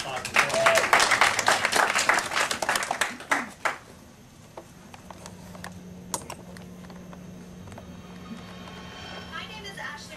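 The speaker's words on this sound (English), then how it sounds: "Another round of applause." Audience applause at a paranormal investigators' panel, a dense burst of clapping up close that fades after a few seconds into a quiet room with scattered claps and soft talk.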